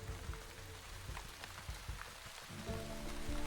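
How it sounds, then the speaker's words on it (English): Rain falling in the swamp area of the Wytchwood video game, a soft, steady patter of drops on surfaces with a low background hum that builds slightly toward the end. "The raining ambience in the swamp's also very nice"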